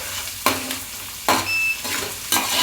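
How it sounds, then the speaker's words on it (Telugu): Green chillies and tomato are stir-fried in a pan for Andhra-style masala rice. A spatula scrapes and stirs in about four distinct strokes over a soft, continuous sizzle. "సగం ఫ్రై చేసుకోవాలి, పూర్తిగా ఫ్రై చేసుకోకూడదు"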